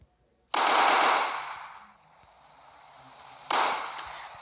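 Automatic gunfire from the mobile shooter Striker Pro 3D comes in two loud bursts, a long volley that fades out and a shorter one a few seconds later, with faint game sounds between.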